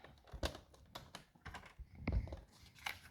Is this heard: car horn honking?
no